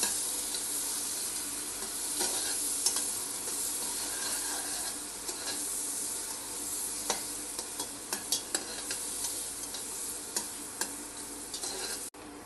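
Onions sizzle steadily in oil in a pan while being prepared for Arabian shawarma, with a long even fry sound and a series of sharp spatula scrapes and clinks, growing more frequent toward the end.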